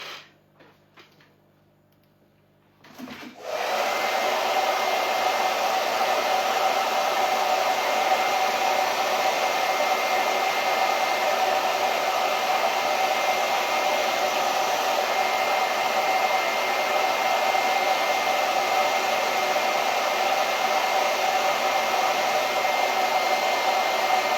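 A hair dryer switches on after a brief quiet start and runs at a steady, loud, continuous whir while drying an autumn craft piece, with no talking over it.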